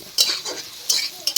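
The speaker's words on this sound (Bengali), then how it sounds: "পেঁয়াজ কুচিয়ে তেল দিয়ে আলুগুলোকে ভেজে দিচ্ছি" Potatoes frying in oil with chopped onion in a pan, with bursts of sizzling and spoon-stirring scrapes recurring in a few short pulses, close and moderately loud.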